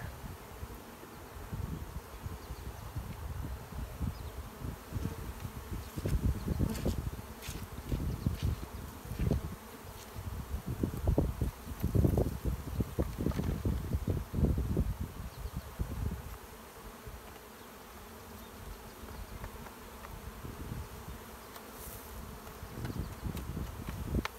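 Bees buzz steadily around a hive opened for a spring inspection, a dense droning hum that swells louder in the middle with no voices present.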